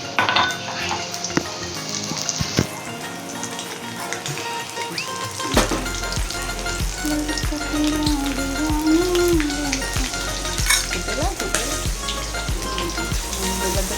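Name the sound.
crushed garlic frying in hot oil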